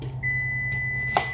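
A kitchen oven sounds a single steady electronic beep, clear and moderately loud, to signal it has finished preheating, with faint room hum underneath.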